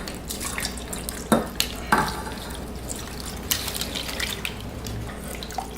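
Water is poured from a tap into a pot holding chicken for soup, a steady splashing and gurgling stream with a few sharp clinks, close and fairly loud with no voices.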